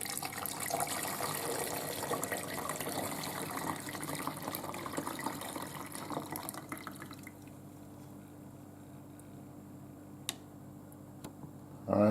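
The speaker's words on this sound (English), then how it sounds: "So let's pour the liquid right on in there." Gravy liquid from a chuck roast cooked in a Ninja Foodi is poured into a fat separator, giving a steady, continuous splashing trickle for about seven seconds before it tapers to quiet drips and a few small knocks.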